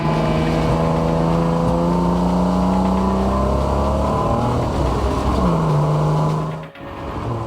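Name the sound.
Ford Falcon EL drift car engine misfiring on track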